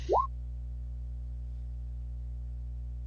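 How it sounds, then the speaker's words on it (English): A bottle pops open once, a short rising plop right at the start, then only a steady low hum remains. "Who the fuck popped open a bottle?"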